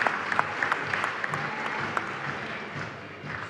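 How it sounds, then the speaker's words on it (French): Audience applause at a tech pitch event, a sustained wash of many hands clapping with scattered sharper claps, moderately loud and steady throughout without a break. "On peut l'applaudir"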